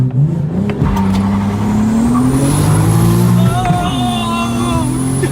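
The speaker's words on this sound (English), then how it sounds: "That's how you take off right there. That was a launch right there" A rebuilt 2023 BMW M3 launches hard from a clutch dump, loud close engine revving rising through the gears with a whining note, with a voice talking over it.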